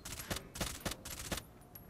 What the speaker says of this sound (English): I think that was teammate firing